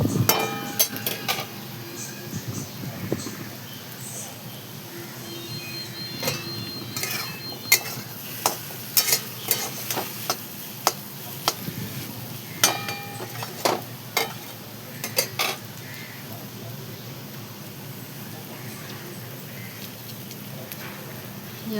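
Leftover rice being stirred and mixed in a pan, with soft scraping and sporadic clinks of a spoon against metal over faint sizzling, irregular and fairly quiet.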